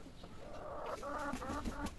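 Chickens cluck and murmur softly nearby in a steady, low stream of calls, with no talking.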